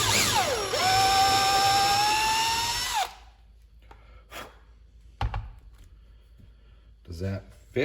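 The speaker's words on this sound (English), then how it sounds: "let's drill these out." A power drill boring out small knobs turned on a mini lathe, whining loud and close for about three seconds as it spins up and settles, then stopping and leaving scattered clunks and taps.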